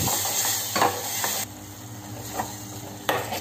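Ground tomato sizzling in hot oil in a pan while cooking pepper rasam, a steady close crackle with a few stirring scrapes and clinks.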